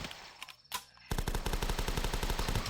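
Rapid gunfire rattles out in The Last Stand video game: a few scattered shots come first, then a fast, dense automatic burst that runs loud and unbroken to the end.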